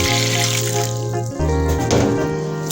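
Fresh vegetables being washed under running water, a steady close splashing and pouring from start to finish with a brief dip partway through.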